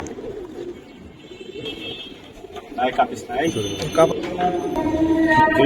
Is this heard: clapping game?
no